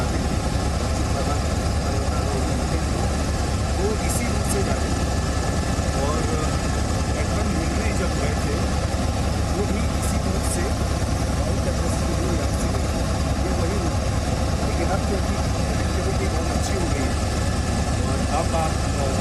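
A helicopter engine drones steadily on a flight along the route toward Mount Everest, a loud continuous roar with a constant rotor throb that lasts the whole time without a break.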